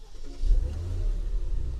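A Porsche Cayenne starts up inside a showroom, its engine turning over and catching in a low, close rumble that settles into a brief idle.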